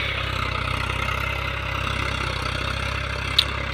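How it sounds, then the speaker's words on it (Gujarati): A tractor engine idles and rumbles continuously in a field at moderate distance, a low, even drone with no voices and a brief faint click near the end. "તો જુઓ ટ્રેક્ટર ચાલી રહ્યું છે આપણા ખેતરમાં"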